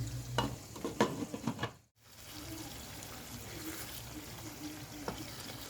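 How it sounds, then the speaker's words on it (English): Chopped vegetables frying and sizzling in hot oil while being stirred for shito, a Ghanaian black pepper sauce; a steady close crackle with a few scraping stirs early and a brief break in the middle. "As time goes on, then it will start to fry in the oil."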